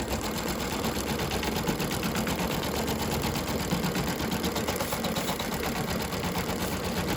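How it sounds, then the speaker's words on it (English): Embroidery machine stitching down stabilizer fabric, a steady, loud, continuous mechanical whir with rapid needle rhythm running throughout, close by and alone. "I'm going to stitch down this stabilizer"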